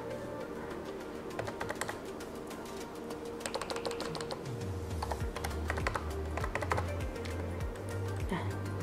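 Fast key presses on a computer keyboard as numbers are entered into a tax form, coming in quick irregular bursts of clicks up close while a voice talks underneath.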